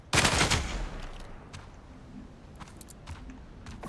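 Gunfire in the video game Spectre Divide: a loud, rapid burst of shots at the start, then scattered fainter shots and clicks, with no talk.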